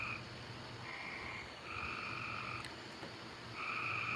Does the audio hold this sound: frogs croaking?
yes